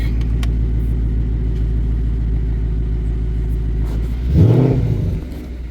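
A 2020 Ford Mustang engine idles with a steady low rumble while backing out, then briefly revs and surges louder near the end before easing back.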